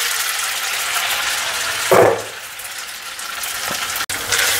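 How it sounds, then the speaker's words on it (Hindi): Boiled noodles for veg chowmein frying lightly in a pan: a steady bright sizzle, with a short louder burst of crackling near the middle and a brief clatter later. "नूडल अच्छे से ड्राई हो गए हैं, और इसको हल्का सा फ्राई करते हैं।"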